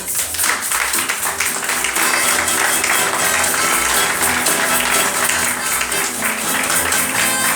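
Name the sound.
audience applause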